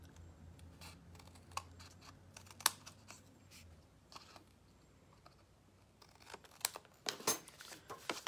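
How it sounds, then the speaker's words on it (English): Scissors trimming patterned paper pieces for a fancy fold card, a faint series of quick snips and light paper rustles, growing busier toward the end. "I'm going to turn it over and just trim these pieces."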